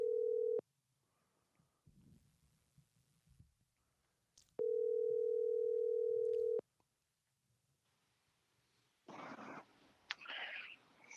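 A telephone places a call, with a long, steady dial-type tone, a stretch of quiet with faint clicks, then another long tone before brief rustling and noise, all close and clear.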